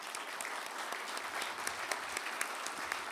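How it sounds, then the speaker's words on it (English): Steady audience applause at the inauguration of the National Press Club's president, a dense, even patter of many hands filling the room at moderate volume throughout, with no voices over it. "Please give them a round of applause now."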